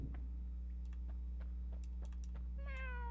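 Short cat meows from a cat spell in a game, a brief bright meow near the end over a constant low hum, with faint clicks and taps scattered earlier.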